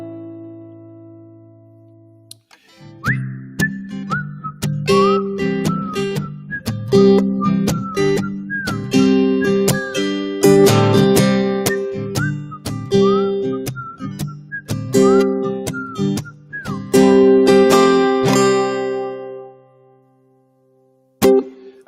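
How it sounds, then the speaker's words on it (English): A person whistles a song's melody in clear, sustained pitched phrases, starting after a brief pause and running continuously in the foreground with no talk over it. "Here comes the whistle part."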